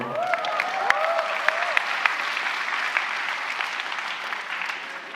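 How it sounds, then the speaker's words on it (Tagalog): Lively applause from a church gathering audience, a bright, dense patter of clapping with a couple of whistles at the start, steady and fairly close, slowly easing off toward the end. "Huwag kayo masyadong pumalakpak. Baka maniwala ako."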